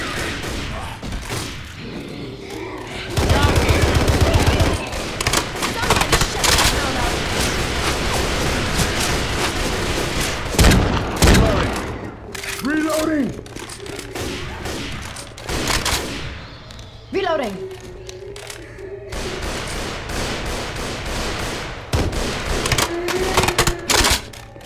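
STG-44 rifle fired in the zombie shooter Left 4 Dead 2 on Expert, long loud bursts of automatic gunfire broken by pauses, with thuds, shouts and game sounds in between.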